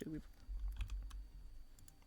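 Mouse or keyboard clicks selecting Thunderbolt in an online Pokémon battle, a few quick close clicks under a speaking voice.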